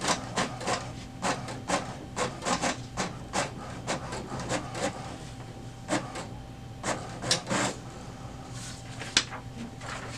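An HP DeskJet 2652 inkjet printer runs alone printing a status report, its print head shuttling in a quick series of mechanical whirs and clicks with a faint steady hum underneath, close by.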